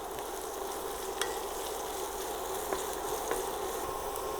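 Sliced Thai green chilies sautéing in a pan for an asparagus carrot stir fry, a quiet, steady sizzle with a few faint utensil clicks, close by and without talk.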